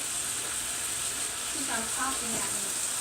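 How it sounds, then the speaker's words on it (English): Ground meat frying in a pan for Texas hot chili sauce gives a steady, close sizzling hiss throughout, with a few brief scraping stirs near the end. "it does that when it's frying"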